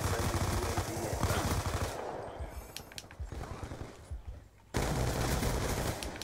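Rapid automatic gunfire in a shooter video game, loud bursts of machine-gun fire with a brief quieter gap of scattered clicks and shots before the firing resumes.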